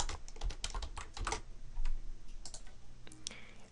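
Fingers type on a computer keyboard, a quiet, close run of quick clicking keystrokes in an uneven burst, then a few scattered taps after a short pause.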